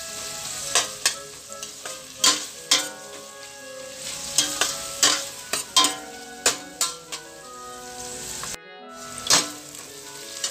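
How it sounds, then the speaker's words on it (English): Two large onions frying in a pan for masale bhat, cooked gently so they soften without browning: a steady sizzle broken by scattered clinks and scrapes of a stirring utensil against the pan. "I'm going to fry this until they're slightly translucent"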